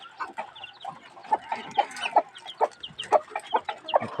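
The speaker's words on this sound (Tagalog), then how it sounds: "Apat yun na piraso ng sisiw niyan." Four chicks with their mother hen, heard as close, sharp, high peeping calls repeating in quick irregular bursts, with some softer clucking mixed in.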